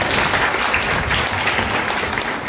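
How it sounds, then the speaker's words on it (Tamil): An audience at a Tamil film-song music talk applauds with a loud, dense, even clatter of many hands that holds steady for a few seconds without voices. "முதல்ல அதுக்காக ஒரு கைதட்டு."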